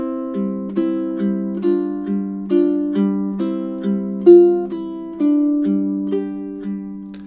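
A low G ukulele plays the opening measures of the A section of Danse Paysanne in steady plucked eighth notes, each note ringing clearly and alone at moderate volume with gentle swells in dynamics.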